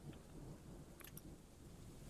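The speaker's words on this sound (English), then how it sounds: "Ah, rain." Rain falls steadily in the Dwarf Fortress video game, a dense low rumbling wash with brief bright ticks and no talking.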